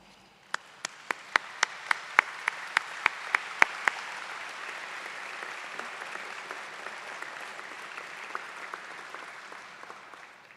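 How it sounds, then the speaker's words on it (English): Graduation audience at a commencement ceremony rising for a standing ovation, a steady wash of many hands clapping from a large crowd, with a few sharp claps cutting through near the start and the applause carrying on evenly throughout. "let's all stand up and give them a much-deserved round of applause"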